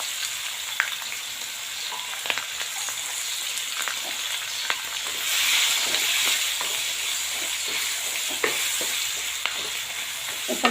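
Onions hit hot oil with long green chillies for a potato-onion sabzi, giving a steady close sizzle that swells for a moment, marked by scattered spoon clicks as they are stirred.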